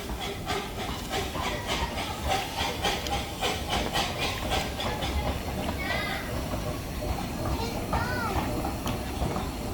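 A miniature coal-fired steam train hisses steadily with rhythmic chuffing bursts over several seconds, close by, with some background chatter.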